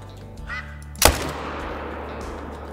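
A single sharp rifle shot cracks out in the hunting video game Call of the Wild, loud and close, trailing into a long reverberant decay over steady low ambient hum.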